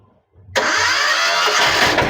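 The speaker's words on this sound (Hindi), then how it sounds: "जैसे ही मशीन स्टार्ट करते हैं अपन" The engine of a Sanedo Kisani Bullet bike tractor starts with a brief cranking sound, then quickly catches into a loud, steady, close idle rumble.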